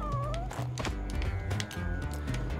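A cat meows repeatedly in a video game, short rising calls over busy game music and effects, fairly close and clear.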